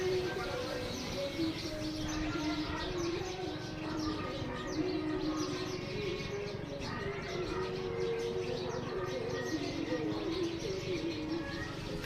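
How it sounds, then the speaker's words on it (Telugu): Birds chirp and coo from a neem tree beside a house, a steady mix of small calls and dove-like cooing in the near distance with no other sound over it. "మీకైతే వినిపిస్తున్నాయిగా పక్షుల కిలకిలా రాగాలు"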